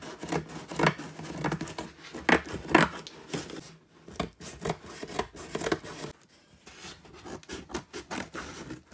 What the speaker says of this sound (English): This is where the nursing scissors come into play.